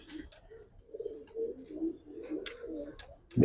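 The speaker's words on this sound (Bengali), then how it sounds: "ইন্ডিয়ান কবুতর ভাই" Indian pigeons cooing close by in a loft, a run of soft, rolling low coos that overlap and pulse for several seconds, with a sharper, louder coo at the very end.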